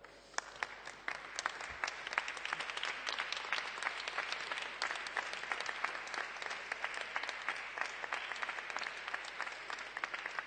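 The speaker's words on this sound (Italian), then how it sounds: "Ringrazio i colleghi di questo applauso" A room full of colleagues in a Rome council chamber applauds steadily, a dense patter of clapping that holds for several seconds.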